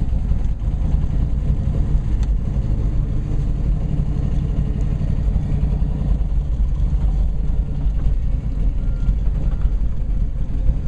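Engine of a 1970 Plymouth Cuda running as the car drives off, a loud, steady low rumble heard close throughout with no talk.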